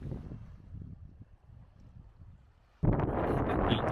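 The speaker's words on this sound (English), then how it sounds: "it's also getting windier the further we come to this side" Gusty wind at Cabo de Gata, Spain, rumbles against the microphone, then suddenly surges much louder and harsher, buffeting continuously to the end.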